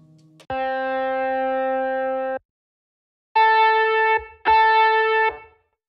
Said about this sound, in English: There's a rock guitar in here.